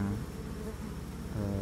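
Honey bees (Apis cerana) hum steadily during the transfer of a newly split colony, a close, continuous low buzzing swarm with no talk over it.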